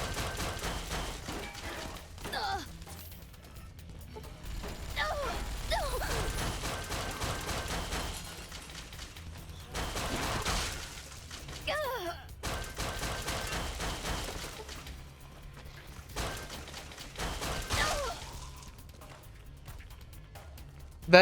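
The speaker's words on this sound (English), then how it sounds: "Stop shooting me." Video game gunfire crackles in repeated bursts of rapid shots, loud and close, with brief lulls between volleys over a rumbling battle backdrop.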